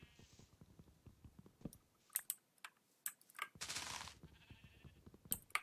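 Sheep in the Minecraft video game bleat in short bursts, close and fairly quiet, mixed with quick clicks and keyboard-like tapping and a brief noisy rush in the middle.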